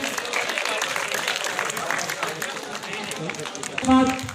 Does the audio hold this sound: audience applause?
yes